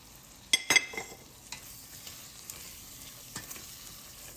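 Food sautés in a pan with soft sizzling while a spoon stirs it, giving a few sharp scrapes near the start and then lighter occasional clinks over a steady frying hiss.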